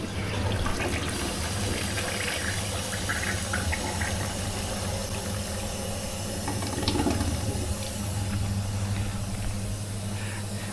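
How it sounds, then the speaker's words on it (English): Hot water mixed with washing up liquid poured into a blocked toilet draining to a septic tank, a steady close hissing, splashing flow lasting throughout with a slight surge near the end. "The washing up liquid will lubricate the loo with the hot water"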